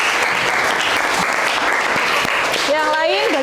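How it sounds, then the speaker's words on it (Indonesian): Students in a classroom break into loud, continuous clapping after a presentation, the applause steady throughout while a voice starts speaking over it near the end. "Oke, kasih tepuk tangan."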